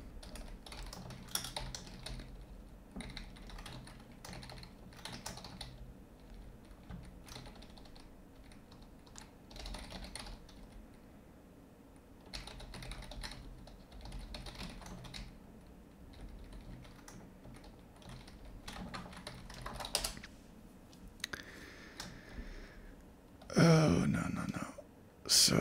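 Rapid clicking on a computer keyboard while coding in Rust, in irregular bursts of keystrokes, close and soft, with someone speaking quietly at times.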